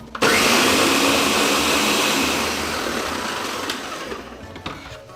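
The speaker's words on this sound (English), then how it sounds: "you need a high-powered blender for this in order to creamify the cashews" A high-powered blender whirs loudly and continuously, creamifying soaked cashews for vegan palak tofu, then cuts off with a few clunks near the end.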